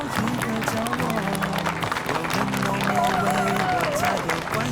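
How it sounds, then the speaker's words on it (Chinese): Audience applause at a mango carnival event, a dense wash of clapping from a crowd running steadily throughout, close and loud, with a voice speaking over it at times. "请大家掌声欢迎"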